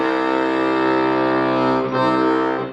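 A steady, reedy accordion C bass button note held for a few seconds, loud and close, with a rich buzzing tone and no voices.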